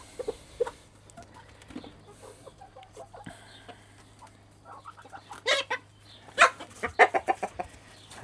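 Hens cluck in soft, scattered bursts while they feed, growing busier and louder toward the end over a low, steady background hum.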